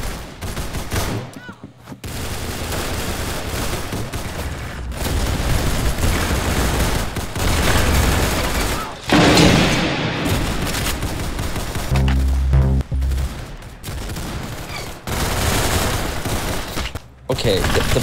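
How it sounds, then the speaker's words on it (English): Gunfire in the Roblox Arsenal video game rattles in dense, continuous bursts with a few brief pauses, loud throughout and mixed with game noise. "Oh, no, someone's shooting me. Someone is shooting me."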